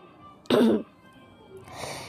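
A single harsh cough bursts out close to the microphone during a voice-over recording, followed by a faint breathy rasp and quiet room tone.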